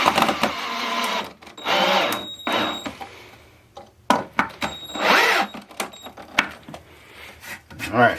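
A cordless power drill drives screws into a wooden stand for a washer or dryer in bursts of whirring, each a second or so long, close by, with pauses and handling noises between them and someone speaking at times.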